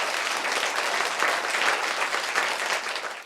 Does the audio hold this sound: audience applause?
yes